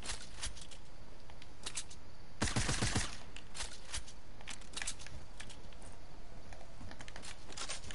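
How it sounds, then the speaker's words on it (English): Rapid bursts of gunfire from the video game Fortnite crackle throughout, with one louder, fuller volley partway through amid steady clicking and tapping. "How's a gunshot, like, be that loud?"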